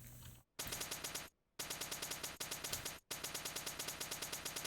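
Automatic gunfire in a prototype shooter video game, rapid regular bursts of loud close shots separated by brief silent gaps.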